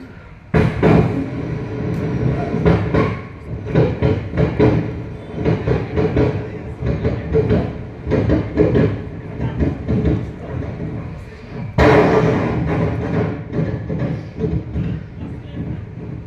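A mimicry artist imitates two trains passing on different platforms, one slow and one fast, with a steady rumbling rush and rhythmic clacking pulses that restart loudly partway through.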